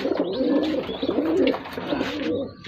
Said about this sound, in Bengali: দাদা দেখাচ্ছে পায়রাটা। এটা কি পায়রা আছে? এটা একটা লাল মিলি।